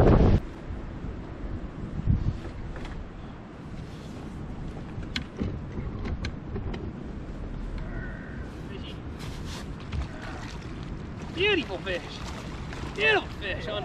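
Fishing boat drifting on water during winter largemouth bass fishing, wind buffeting the microphone and water lapping against the hull, with people talking and calling out throughout.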